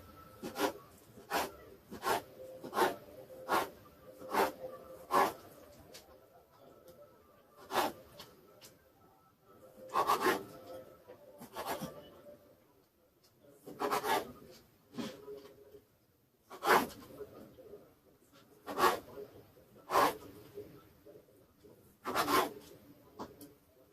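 A knife cutting through a chicken fajita sandwich wrap in repeated short, crisp sawing strokes at an uneven pace, close and fairly quiet with no talking.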